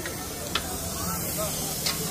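Fish sizzling as it fries in hot oil, a steady broad hiss with a few brief crackling pops, close and moderately loud, with faint background voices.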